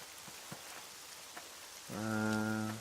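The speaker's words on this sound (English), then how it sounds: "I don't really want to read in the rain if I have to" Rain in the Neverwinter Nights video game patters as a steady hiss, with a few sharp drips standing out before a droning tonal hum swells in near the end.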